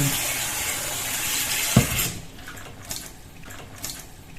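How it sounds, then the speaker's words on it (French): Cold water runs steadily from a tap onto a cloth for about two seconds, then cuts off with a soft knock, followed by a few faint drips and splashes. "Il suffit d'imbiber la toile Infume Nature avec l'eau froide au robinet."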